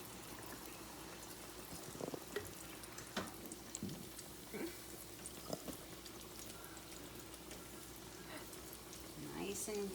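Chicken pieces for Southern fried chicken sizzle faintly in hot oil, a steady soft hiss with small pops and clinks from the pieces being laid in, heard at a low level.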